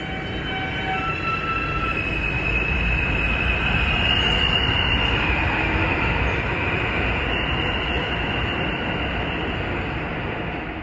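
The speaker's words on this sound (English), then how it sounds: "here comes a Coney Island-bound F train" A Coney Island-bound F train on the New York subway rolls into the station with a loud, steady rumble of wheels on rail and a thin high-pitched trill and squeal riding above it throughout, no one speaking.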